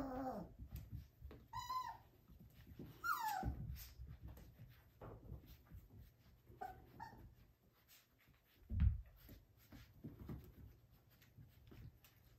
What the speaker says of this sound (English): I'm gonna try to be quiet and see if they'll stop yapping at me and go play.